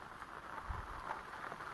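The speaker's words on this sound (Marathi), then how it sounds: "पावणे नऊलाच पाऊस सुरू झाला आज हे बघा पाऊस" Rain falls steadily over an organic fenugreek patch during harvest. It makes a faint, even hiss with no clear individual drops.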